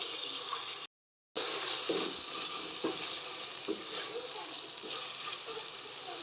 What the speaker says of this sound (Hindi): अब इसमें डालूंगी मैं टमाटर कटिंग किए हुए।